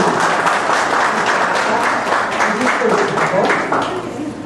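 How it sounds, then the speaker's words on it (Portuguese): An audience claps and cheers in a dense, lively burst that fades slightly at the end, while a host's voice carries over the applause. "uma salva de palmas para a Janaína"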